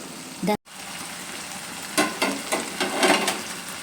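Green chilli chicken simmering in a pan over a low flame, giving a steady soft sizzle broken by a few louder stirring or scraping bursts, with a brief cut near the start.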